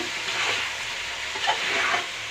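Chicken sautéing in a pan for a homemade chicken gravy, a steady close sizzle with soft hissing and faint stirring scrapes, no voices.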